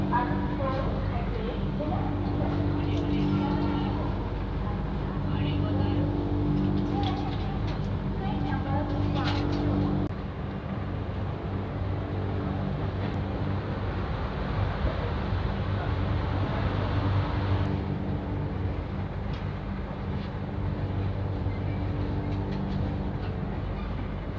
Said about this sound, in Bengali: আমাদের ট্রেনটা এখন জোলারপট্টি জংশন থেকে ছেড়ে বেরোচ্ছে